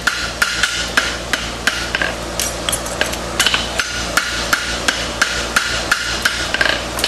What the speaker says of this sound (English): I'm welding the edges with the hammer, and I'm welding the frog plate with the horn.